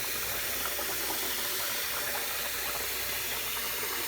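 Tap water runs steadily from a faucet while rice is rinsed, a constant broadband rush and splash close to the microphone with no talking.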